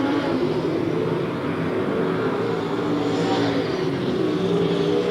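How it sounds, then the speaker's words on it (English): Super sedan race cars roar around Archerfield Speedway during a Cannonball Cup round, a loud, steady engine drone with no break, the pack held at a near-constant pitch down the back straight. "This now puts Shane Bolger in 4th placing going up the back straight away"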